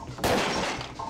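A single loud burst of M4A1 rifle fire in the video game Parasite Eve 2, a sharp broadband crack that rings out briefly before fading, heard alone.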